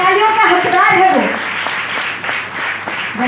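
Audience applause welcoming a speaker on stage at a trading company meeting, a loud, close burst of clapping from a crowd that tapers off over a few seconds, with a voice speaking over it.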